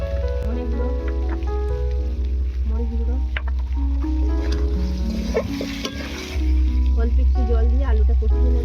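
Potatoes sautéing with ground turmeric, chilli, cumin and coriander in a pan, a steady close sizzle with intermittent scraping and stirring strokes, the frying growing louder near the end.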